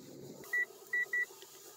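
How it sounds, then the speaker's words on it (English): A car dashboard chime warns of possible icy roads, sounding as three short, clear electronic beeps over a low cabin hum while driving on a wintry road in the North Maine Woods. "My car is telling me that there's possible icy roads."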